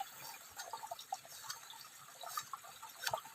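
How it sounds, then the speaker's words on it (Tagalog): Soft, continuous trickling and splashing of running stream water, faint and steady, with small irregular gurgles and no voices. "Tumatakbo ang tubig yan."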